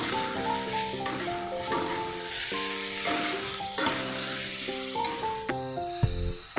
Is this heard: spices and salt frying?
yes